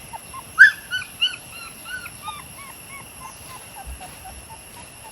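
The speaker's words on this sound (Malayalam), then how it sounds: "ഇവർ നല്ല കുര കുരയ്ക്കുന്ന ബ്രീഡാണ്" High-pitched Pomeranian puppy yapping up close: a sharp burst of several barks, then a string of fainter, softer yips trailing off.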